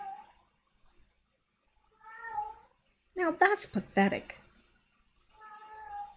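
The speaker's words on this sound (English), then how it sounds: "listen to my cat. You would think that lost its last friend." A pet cat gives long, plaintive meows, three drawn-out cries spaced apart, with someone speaking briefly in between.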